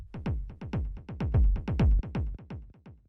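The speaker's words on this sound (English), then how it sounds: "So the first thing that we have here is this delay," A techno rumble kick runs through a delay effect, its deep thumps repeating in a fast, uneven echoing pattern that swells louder midway, then thins out near the end.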